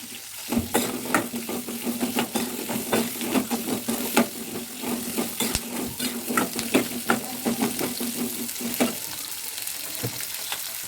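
Onions and tomatoes sauté in a pan for tomato chutney, a steady close sizzle with frequent scraping stirs and utensil clacks running throughout.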